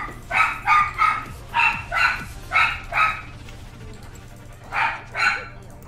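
A small dog yaps in quick pairs of sharp barks, repeated in rhythmic bursts at close range over a faint steady hum.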